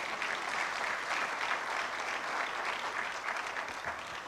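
Steady, sustained applause from a lecture-hall audience at a memorial lecture, an even wash of many hands clapping throughout.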